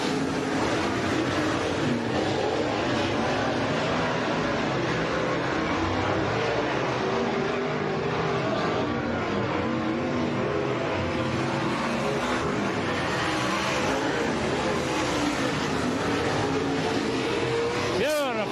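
Race cars roar around the oval at HOT Speedway, a continuous loud engine drone from a pack of cars under an announcer's excited commentary, with one car's engine note rising near the end.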